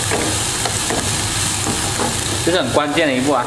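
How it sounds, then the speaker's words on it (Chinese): Green peppers stir-fry in a little hot oil in a dry flat pan, a steady loud sizzle throughout, with a person talking over the last second. "油烧热放入青椒，把青椒给煸软"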